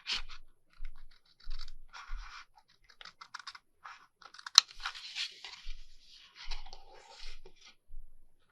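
Paper being cut for an envelope flip booklet: a series of short, crisp scissor snips and scratchy slicing strokes in separate bursts, close up, with no talking.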